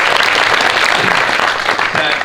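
A room full of people gives a burst of loud, dense applause at a live event. The clapping keeps going without a break, with a little crowd murmur mixed in.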